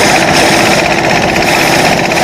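A rice threshing machine runs on an outdoor threshing floor, giving a loud, steady, continuous mechanical clatter and roar that fills the whole short stretch with no pauses.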